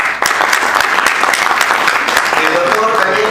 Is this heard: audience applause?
yes